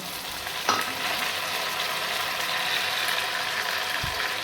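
Browned onions sizzle in a pan with tomatoes added, a steady close-up frying hiss, and a spoon scrapes and clinks as the mixture is stirred.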